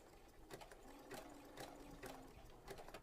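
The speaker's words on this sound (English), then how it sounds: "you do have to sew kind of slowly for curves like this" A sewing machine stitches fabric slowly around a curve, a soft, faint series of mechanical clicks and needle taps in short uneven bursts, with a light hum beneath.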